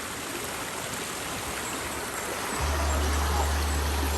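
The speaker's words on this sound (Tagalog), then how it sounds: "Dahil kuwang-kuha talaga yung daloy ng ilog" A river flows steadily with broadband rushing water, close and continuous, and a low rumble joins in during the last second and a half.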